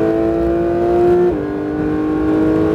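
A Porsche GT3 engine pulls hard under acceleration on track, a steady rising tone that drops briefly at a gear change before climbing again, loud and close from inside the car.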